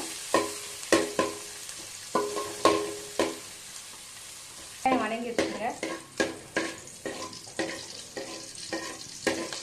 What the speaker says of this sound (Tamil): அதில் போடுங்க ஒரு பெரிய வெங்காயம் வெங்காயம் நல்லா வணக்கிக்கோங்க